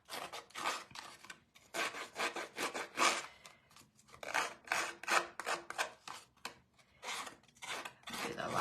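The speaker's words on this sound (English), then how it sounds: "You just have to be careful because these scissors are very sharp." Sharp snips cutting through a stencil sheet produce repeated rasping, crunchy snipping bursts in an uneven rhythm with short pauses, close and moderately loud, and no voices.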